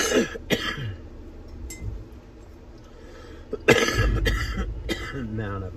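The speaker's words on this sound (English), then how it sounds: "Man, I've got a bad cough." Several harsh coughs burst out near the mic, a couple early and a cluster later, over low background noise.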